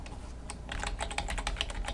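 Quick, uneven clatter of keys on a computer keyboard, fairly quiet and close, with bursts of rapid keystrokes and no talking.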